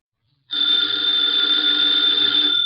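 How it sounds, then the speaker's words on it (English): After a brief silence, a telephone bell starts ringing in a 1951 radio drama, a steady metallic tone that continues unbroken to the end. "the ringing of that phone bell means mystery, adventure"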